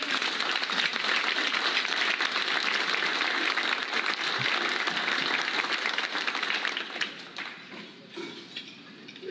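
Audience applause at a Constitutional Rights dinner, a dense, steady wash of clapping that holds strong for about seven seconds, then thins and tapers off near the end.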